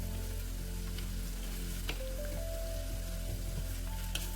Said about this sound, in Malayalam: ഞാനിപ്പോൾ ഒരു വലിയ സവാളയാണ് ചേർത്ത് കൊടുക്കുന്നത്. നന്നായിട്ടൊന്ന് വഴറ്റി കൊടുക്കാം.